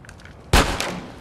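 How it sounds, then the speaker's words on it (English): A single loud gunshot cracks out in Grand Theft Auto San Andreas, a sharp broadband burst with a short tail rising from quiet game ambience. "Hey! Who shot at me?"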